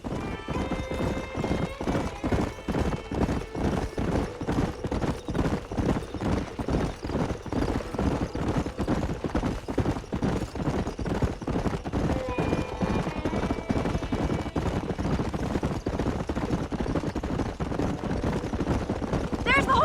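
Wild horses galloping in the Red Dead Redemption video game, a steady, driving clip-clop of hooves that runs close and loud the whole time, with whinnies breaking through in places.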